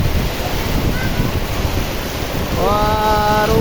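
Heavy wind and rain in a downpour, a steady loud roaring wash of gusts and rainfall filling the whole clip, with a brief tonal whine near the end.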